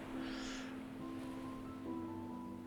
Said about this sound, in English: you hear the sounds of waves in the distance